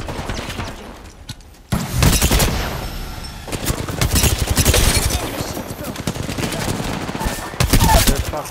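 Rapid bursts of automatic gunfire in the Apex Legends shooter on the Storm Point map, loud and close, with a brief lull near the start and then sustained cross-firing with scattered single shots.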